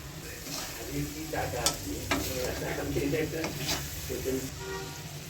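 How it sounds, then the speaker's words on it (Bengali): Salted hilsa pieces fry in a spiced masala for a potato and eggplant curry, giving steady close sizzling with scraping stirs and light clinks throughout. Soft talk is heard faintly in the background. "এখন মশলা ভাজাটার মধ্যে দিয়ে দেবো লোনাটা"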